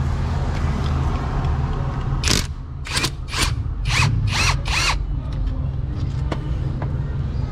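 An impact wrench with a socket removing the bolts holding the shifter bracket in a turbo Honda Accord fires off in several short, sharp bursts in a quick series, close up over a steady low background hum.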